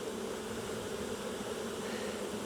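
Honey bees buzz at a hive being set up with a queen excluder and Cloake board for small-scale queen rearing, a dense, continuous, even drone with no voices.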